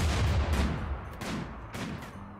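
Colonists in RimWorld fire guns in a series of muffled, booming shots, several distinct bursts spaced across a couple of seconds over a steady low rumble.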